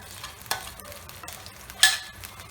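Tomato and onion paste for shahi paneer hitting a hot pan on low flame, a crackling sizzle with close spatula stirs and two sharp spikes, a brief knock early and a louder splattering hiss near the end.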